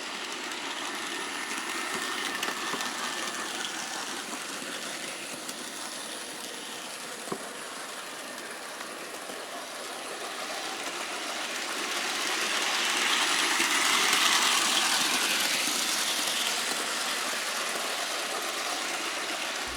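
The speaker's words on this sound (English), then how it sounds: "while I have this locomotive running in reverse, let's go and see how these cars handle a backup move" A Bachmann Chessie Special HO-scale model steam locomotive backs its cars along the track, giving a steady close-range mechanical whir with faint rail clicks that swell slightly toward the end; no voices.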